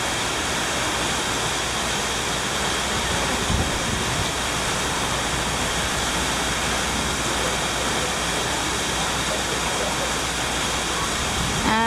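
Heavy rain from Hurricane Irma pouring down at Disney World, a dense, constant hiss of water that stays even and loud from start to finish with no breaks.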